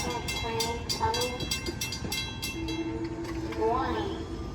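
A commuter train passes through Bethpage station at night, with rhythmic clicking wheel strikes, a rumbling roll and a short horn or whistle tone toward the end, all fairly close and loud.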